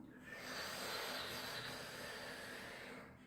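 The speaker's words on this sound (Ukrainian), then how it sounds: "Вдих робимо через цю трубочку." A close, steady airy hiss as breath is drawn in through a rolled tongue during sitali pranayama, one smooth inhale lasting about three seconds with no talking.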